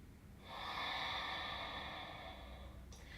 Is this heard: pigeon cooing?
no